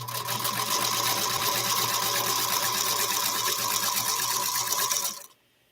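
Sewing machine runs steadily stitching half-square triangles on paper foundations, a close, loud continuous rapid mechanical whir that stops abruptly near the end.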